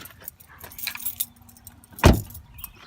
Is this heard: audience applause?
no